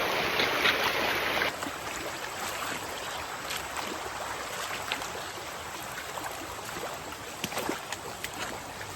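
A river flows below with a steady, broad rushing wash, continuous and moderately close, after a brief brighter burst of noise at the opening.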